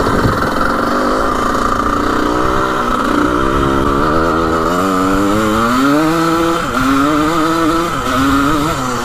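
A 1980 vintage racing dirt bike engine revs close up, its pitch climbing and dropping through gear changes as it accelerates, loud and buzzing with no talk over it.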